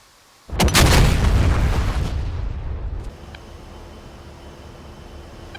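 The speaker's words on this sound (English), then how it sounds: "I do love watching these bombs chase that laser down the funnel right on target" Bombs from a combat flight video game strike a laser-designated target, a sudden loud, broad blast that rumbles on for a couple of seconds before fading into a steady low background hum.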